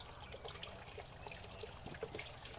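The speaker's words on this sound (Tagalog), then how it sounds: "Malinis ang tubig namin ito guys" Clean mountain water trickles and flows steadily in an outdoor spot, a soft continuous babble with small splashes, alone and fairly quiet throughout.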